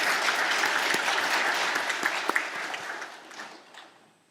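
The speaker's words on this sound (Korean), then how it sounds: "다시 한번 박수 보내주시기 바랍니다." A church congregation claps together in a dense burst of applause that holds steady, then gradually thins and fades out over a few seconds, with no talking.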